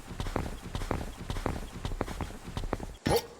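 Horses clip-clopping in the strategy game At The Gates, a steady run of hoof strikes close by with no talk, ending in a brief louder burst.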